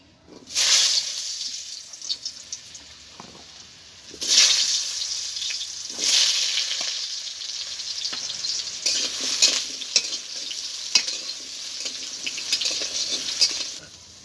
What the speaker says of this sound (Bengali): এই আলুগুলোকে ভেজে নেব